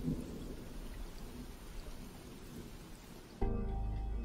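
Rain falls steadily on a night scene in the video game trailer for Depanov Nocturne, with a low rumble of thunder under the patter before a sudden louder burst near the end.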